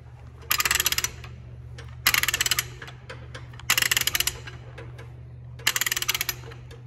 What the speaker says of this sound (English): So we'll go ahead and start loosening up these chain binders.